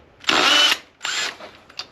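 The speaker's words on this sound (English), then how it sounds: "Just make sure that the drill is facing in the right direction." A cordless power drill spins wheel nuts off a motorhome wheel in two loud whirring bursts, each under a second long, followed by a short faint buzz and no speech.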